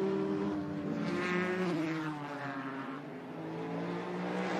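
IMSA sports race cars going through turn 8 at the SportsCar Grand Prix, a steady engine drone from several cars with shifting pitch as they pass at a moderate distance, with no talk over it.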